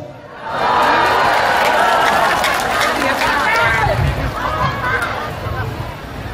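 An audience at a religious lecture breaks into loud applause and cheering, swelling in quickly and holding steady with crowd murmur and voices mixed in.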